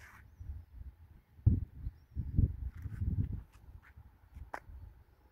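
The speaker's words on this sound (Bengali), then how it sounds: "কাক ডাকছে উদাস দুপুরে।" A crow caws during a calm spring midday in a park. A few harsh calls come from moderate distance, along with scattered other bird sounds and soft footsteps nearby.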